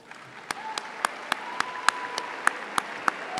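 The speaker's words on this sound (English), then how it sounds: "I think it would be great to give them a round of applause" Audience at an Ellis Island Medal of Honor ceremony clapping for the 2018 medalists: faint, evenly spaced sharp claps in a slow regular rhythm over a quiet room, with a thin steady tone behind.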